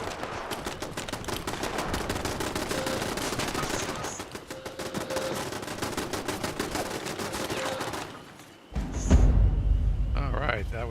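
Automatic camp turrets in the Fallout 76 video game fire in sustained rapid bursts for about eight seconds, loud and continuous, then cut off into a heavy thud and quieter rumble with a few high tones.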